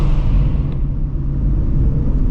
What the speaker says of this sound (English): Dude, this car is loud downtown